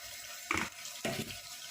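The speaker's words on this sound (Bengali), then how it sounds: "এটা ভালো করে ধুয়ে নিই।" Crabs are rinsed under a running kitchen tap, giving two short splashing bursts of water with brief quiet between them, close and moderately loud.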